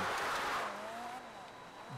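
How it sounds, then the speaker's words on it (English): A car engine idles in GTA 5 Online, a low, steady hum with a faint rising whine drifting over it, heard quietly beneath background game noise. "The engine's on."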